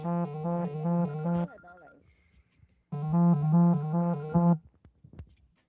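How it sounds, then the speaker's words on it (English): A phone rings with an incoming call, two loud bursts of a repeating electronic ringtone melody separated by a pause, heard close up with no talking over it. "Somebody trying to call you."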